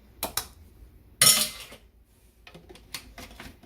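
Orange vanilla Coca Cola cake batter mixed in a bowl with a utensil, sharp clinks and scrapes against the bowl in uneven bursts, one loud strike near the middle, close and alone without talk.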